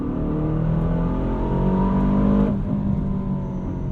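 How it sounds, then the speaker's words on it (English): Aston Martin DBX 707 V8 SUV engine building under acceleration, a loud steady rumbling drone with rising pitch, easing slightly near the end, heard from inside the cabin with no talk. "I'm impressed by the extent to which Aston Martin went to make this sound distinctive for the DBX"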